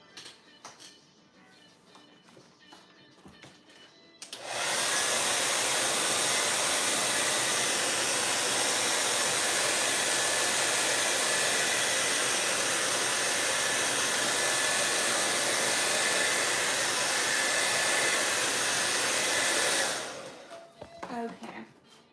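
A hair dryer blows on wet paint, switching on abruptly and running at a loud, steady roar for about fifteen seconds before cutting off, with quiet room sounds before and after.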